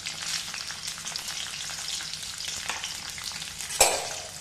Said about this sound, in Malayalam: പാത്രത്തിൽ എണ്ണ വെച്ചിട്ട് ചൂടാകുമ്പോൾ വെളുത്തുള്ളിയും ഇഞ്ചിയും പച്ചമുളകും കൂട്ടിയിട്ട് ചെറുതായിട്ട്